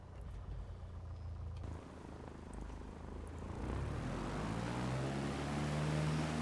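A Piper Warrior II piston engine idling and taxiing in the MSFS 2020 flight simulator, a steady low drone that swells louder and rougher toward the end as power rises, with no talking.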